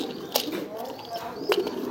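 Domestic pigeons cooing softly at close range while being tended during egg-sitting, with a couple of brief louder calls standing out over low background noise.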